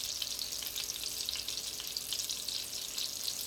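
Italian lemon chicken frying in a pan, a steady, loud, continuous sizzle with fine crackling throughout and no talking.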